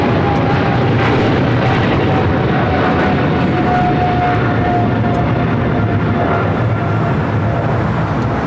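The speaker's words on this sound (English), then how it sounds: "This is American Airlines 136 taking off to London Heathrow on a 777-300ER." An American Airlines Boeing 777-300ER takes off at LAX, a loud, steady broadband jet roar that holds full strength throughout, with a faint whining tone running beneath.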